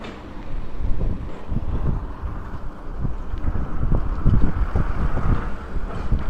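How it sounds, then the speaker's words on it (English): Strong wind on a street in Itabashi, Tokyo buffets the microphone in a continuous rough roar, gusting unevenly with low thumping rumbles throughout. "it is a very windy day out"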